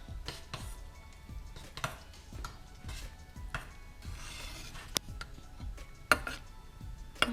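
Soft scraping and rubbing of a utensil through melting chocolate chunks in a pot, with irregular light clicks and taps against the side, close and fairly quiet, with no talking.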